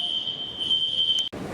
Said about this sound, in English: The fire alarm came on again.